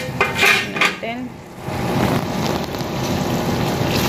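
Dishes and cutlery clink close by as cooked gizzard is plated, a few sharp metallic taps early on, then a steady rushing background noise.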